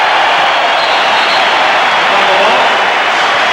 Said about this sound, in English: now the crowd will give the Bulls a standing ovation